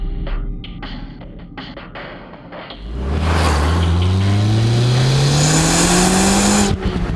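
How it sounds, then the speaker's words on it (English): Tuned Volkswagen with a free-flowing exhaust: a few short revs and pops, then a loud sustained acceleration with the engine pitch climbing steadily and turbo spooling up, up close with no talking. "sounding awesome, the turbo spools up a lot quicker"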